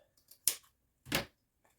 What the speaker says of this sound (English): I'm going to cut these ends off